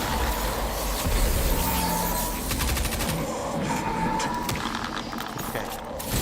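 Steady, dense gunfire in the video game Destiny 2 runs without a break as a continuous rattling barrage, loud and close, with no talk over it.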